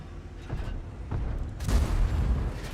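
Several deep booming tank cannon shots from a video game go off, the loudest near the end, each a heavy blast with a short rumbling tail, no voices in between.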